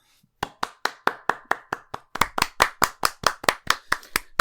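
Hand clapping from a small group in a round of applause, sharp distinct claps that begin sparse and then come faster and louder in an even rhythm, recorded close with a quiet background.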